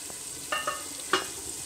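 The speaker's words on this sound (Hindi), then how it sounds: "ताकि मसाला अच्छी तरह से भून जाए" Spiced masala with tomatoes fries in a pan for chana pulao, a soft continuous sizzle broken by a few sharp scraping clinks of a spoon stirring against the metal, close and quiet.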